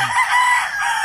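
A rooster crows loudly and close by, a single drawn-out call.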